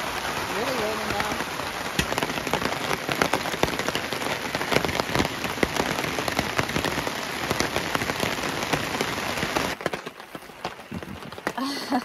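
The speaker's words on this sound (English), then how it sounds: "Really raining now." Heavy rain pours steadily on a truck campsite in high winds, a dense roar of drops pattering on surfaces close by, easing slightly near the end.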